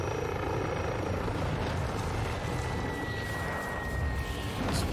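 A helicopter in the Modern Warfare 2 video game sweeps in close during a Domination match, its steady rotor thrum and engine whine loud and continuous throughout with no talk.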